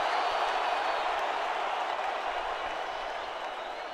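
A 60,000-plus stadium crowd at Tangier Stadium roars steadily through a football game, a dense, continuous wash of cheering and applause that holds loud throughout and eases slightly toward the end.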